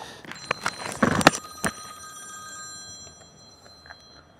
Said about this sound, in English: Oh, Len's ringing me